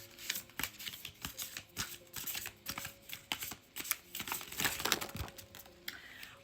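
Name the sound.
tarot cards being shuffled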